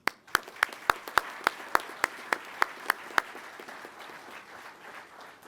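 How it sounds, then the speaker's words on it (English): Audience applause at an Undergraduate Pilot Training graduation ceremony for Class 26-06, opening with a burst of about ten loud, evenly spaced claps over a wider crowd clapping that fades toward the end. "let's give them a round of applause for not just surviving this, but conquering this chaos."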